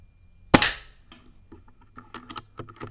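One sharp, sudden crack of a PCP air rifle, a Leviathan R2 in 5.5 mm firing a 21-grain slug into a target backed by a board, followed by faint scattered clicks and taps nearby.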